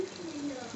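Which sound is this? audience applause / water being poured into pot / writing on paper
water being poured into pot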